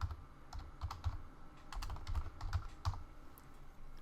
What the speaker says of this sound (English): So up here, we'll just type in just speaker name.